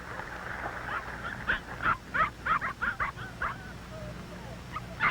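A big red setter barks in a burst of sharp, mid-pitched barks and yips, several in quick succession, then one more after a pause, over a low steady background hum.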